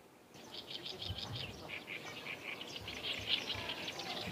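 Small birds chirp and tweet in quick repeated phrases across a quiet wetland, the Hwapocheon wetland in Gyeongnam, Korea, over a soft background hush of wind.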